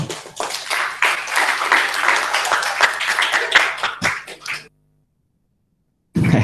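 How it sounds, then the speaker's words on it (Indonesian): Dense crowd applause at a thesis-writing training seminar, many hands clapping steadily for several seconds, then a brief silence before the clapping picks up again. "Tepuk tangan sekali lagi."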